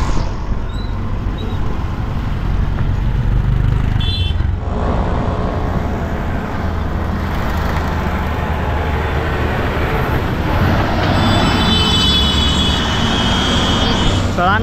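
A train at a busy railway station with a steady loud rumble and hiss throughout, brief higher squeals and ringing tones partway through, and station noise all around.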